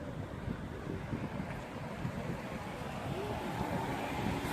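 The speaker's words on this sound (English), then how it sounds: "It's freaking cold, it's windy." Cold January wind blows at Hoover Dam beside the water, a steady low rush and buffeting against the microphone, alone and fairly faint throughout.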